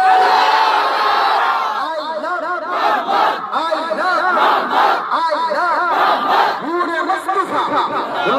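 A large crowd at a protest rally in Bankura roars Allahu Akbar in reply to the Nara-e-Takbir call, loud rhythmic massed voices chanting in repeated waves, filling the space close and sustained.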